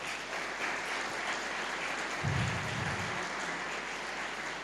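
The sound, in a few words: applause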